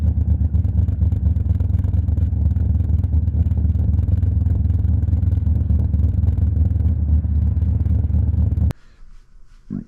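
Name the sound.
Toyota 2JZ VVTi engine idling rough from faulty solenoid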